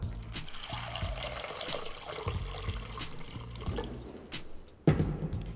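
Water poured over dried food in a basin or bowl, a steady splashing trickle running throughout with a sharper splash near the end, close and moderately loud, no talking.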